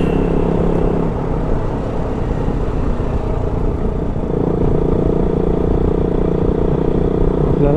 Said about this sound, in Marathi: ह्या टाईमला पण ट्रक्स वगैरे भरपूर आहेत रे इथं